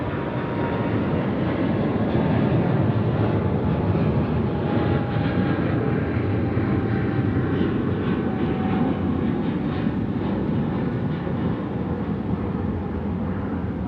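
Etihad airliner jet engines at Sydney Airport give a loud, steady broadband roar that holds without letup, with no voices over it.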